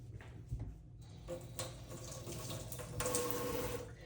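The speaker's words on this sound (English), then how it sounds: "I'm just going to rinse her off nicely." Water from a tap runs quietly and unevenly as a potted plant is rinsed off, a soft splashing flow that swells toward the end.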